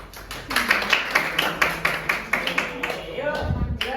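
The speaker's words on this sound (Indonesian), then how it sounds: "Silakan tepuk tangan untuk kelompok 2." Classroom audience of students clapping for a presenting group, a scattered run of claps with some chatter underneath, ending in a low rumble.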